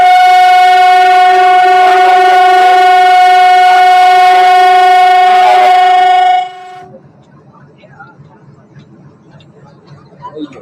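A train at Talala Junction station sounds a long, very loud, steady horn blast for about six seconds, then it cuts off, leaving quiet station ambience with faint rumbling.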